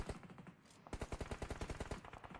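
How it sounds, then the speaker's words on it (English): Gunfire in a PUBG Mobile match, a scattered shot or two followed by a loud, fast automatic burst of evenly spaced cracks lasting over a second, with no speech. "bullets continue to fly out"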